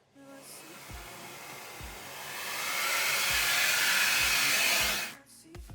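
An Agaro Twister 2200-watt vacuum cleaner runs with a steady broadband whoosh that swells louder partway through, then cuts off near the end. Faint low thumps recur beneath it.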